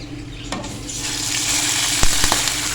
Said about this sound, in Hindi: खुशबू आने लगे तो इसमें डाल देंगे 1/2 कप पानी।